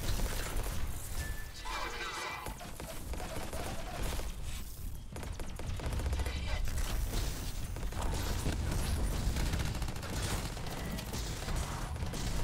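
Heavy gunfire and crashing impacts in the game Anthem, as a really large gun fires in a dense, sustained loud barrage mixed with mechanical clanks and battle noise.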